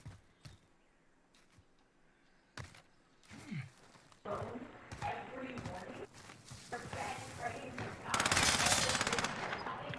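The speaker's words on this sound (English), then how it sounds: "were you just shooting at me?" Gunfire in an online battle royale shooter game. Several sharp shots ring out at first, then a denser burst of rapid fire builds toward the end, mixed with footsteps and game noise.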